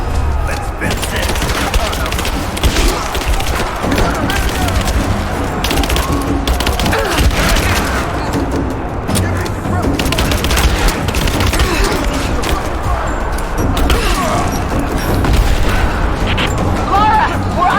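Rapid gunfire and heavy explosions in the Rise of the Tomb Raider video game, a dense continuous barrage of shots and booms with shouting voices mixed in throughout.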